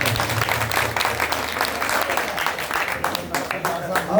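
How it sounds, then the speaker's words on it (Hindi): An audience claps continuously at a magazine launch's ribbon-cutting ceremony, dense, loud applause sustained throughout with a voice talking over it. "आपने तालियां लगानी है"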